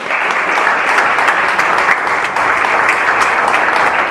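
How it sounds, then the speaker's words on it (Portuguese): A church audience applauds together after a sermon passage, a steady dense clapping that stays loud and even throughout with no voices over it. "Você pode aplaudir por essa palavra."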